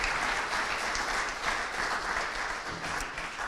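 A crowd at a school fall sports assembly applauds steadily, a dense patter of clapping that holds at an even level throughout.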